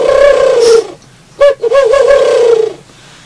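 A man blows across his cupped hands on the bottle-blowing principle to imitate a turtle dove. A close, hollow, steady whistled coo sounds alone, one long note, then a pause and two shorter warbling notes.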